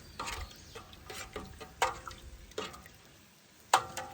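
Two small smashed bouillon cubes are stirred into water for a commissary stew, giving soft, faint liquid swishes and a few sharp clinks of a utensil against the container, with no talking.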